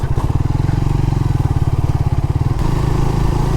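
A motorcycle ridden along a rough, winding rural road through a remote riverside char area, its engine thrumming steadily and loud up close, then the pitch and texture shift near the end as the ride continues, with no talk.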